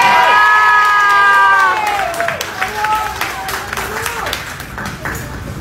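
A crowd cheers and applauds at an airport send-off, with high shouts and whoops, children's voices among them, rising over steady clapping that softens after the first couple of seconds while voices keep calling out.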